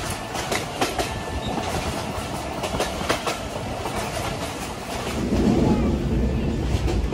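A Bangladesh Railway passenger train, the Rupsha Express, pulls out of Jessore station with steady clickety-clack of wheels and a continuous rumble heard from inside the carriage, growing slightly louder toward the end.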